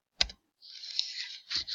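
A single key press on a computer keyboard gives a sharp close click, followed by a softer hiss and another brief clatter, with no talk.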